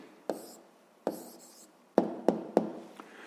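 A pen writing an answer by hand during a sixth-grade maths exercise: a handful of short scratchy strokes and taps, sparse and close, with quiet pauses between.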